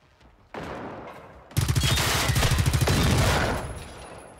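Gunfire aimed at a drone in the video game Generation Zero. One loud shot is followed by a sustained burst of rapid automatic fire lasting about two seconds, which then trails off.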